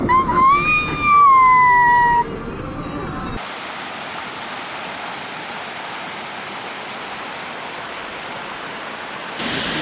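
A nearby waterfall gives off a steady, broad rushing roar that fills most of the clip after a few seconds of voices and high tones at the start.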